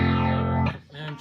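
Electric guitar through a Line 6 Spider Valve MkI 212 tube amp with phaser engaged, a sustained distorted chord swirling for about half a second before cutting off into a brief, fainter note.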